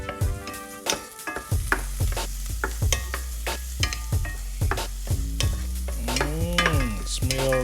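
Beans go into a hot pan as a side for smoked carne asada, with repeated clanking stirs over a sizzle and a tonal ringing that sweeps up and down near the end.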